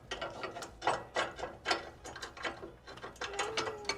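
A wrench ratchets a lock nut tight during assembly of a MechMaxx B150 6-inch wood chipper, a series of close, rhythmic metallic clicks in short bursts, steady and fairly loud.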